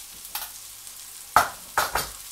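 Turmeric, red chili powder and garam masala frying with onions in a tawa for spicy prawn masala, heard as a few sharp stirring scrapes over a low sizzle, no talking.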